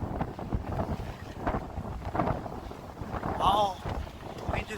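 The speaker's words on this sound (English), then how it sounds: "Oh, wind is really pushing it." Wind buffets the microphone in a steady low roar during an evening walk outdoors in Leiden, with a few faint voices in the background.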